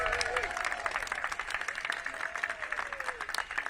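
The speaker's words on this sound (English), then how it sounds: "resounding applause." An audience applauds for the mayor at a housing announcement, steady dense clapping throughout with a faint voice or whistle-like tones gliding above it.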